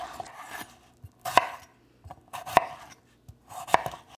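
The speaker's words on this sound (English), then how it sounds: "We're just gonna get these red potatoes cut up." A knife chops red potatoes into small chunks on a cutting board for corn chowder: three sharp, distinct thuds spaced about a second apart, with softer scraping and handling noises in between, close and fairly quiet.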